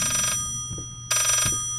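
A telephone rings twice in Layers of Fear, two bright electronic bursts about a second apart, each cutting off cleanly, with faint footsteps and room tone between them.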